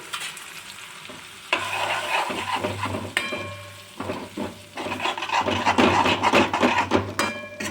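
A spoon scrapes and stirs masala-spiced tomatoes in a hot pan for Kathiyawadi gathiya shaak, with irregular rasping strokes over an intermittent sizzle and a low steady hum; no one speaks.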